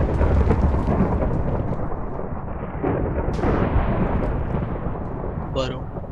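A long rumbling roll of thunder from lightning in the game Minecraft, loud and sustained with swelling surges, while players talk over it.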